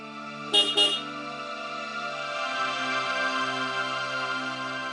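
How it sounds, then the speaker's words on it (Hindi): Two short car horn honks near the start, followed by a low steady drone of traffic or an idling engine. "अरे हॉर्न बजाओ, फिर बजाओ।"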